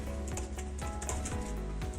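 Fingers tap on the keyboard of a 2020 Intel MacBook Pro, giving a brisk run of soft, close clicks over a low background hum.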